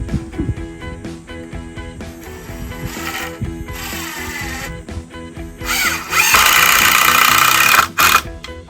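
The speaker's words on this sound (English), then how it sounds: "Using our good old Ryobi 1 impact driver" A Ryobi One+ impact driver drives screws into 2x4 lumber for a storage cart, with whirring bursts that turn into loud, rapid hammering rattles near the end, close by, with no voices.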